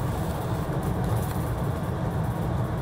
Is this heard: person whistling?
no